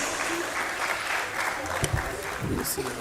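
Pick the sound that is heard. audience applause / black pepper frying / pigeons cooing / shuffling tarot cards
audience applause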